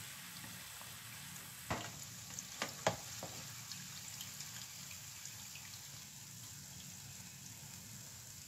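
Flour beignets frying in hot oil, a faint, steady crackling hiss with a few sharp clicks early on, quiet and with no talking.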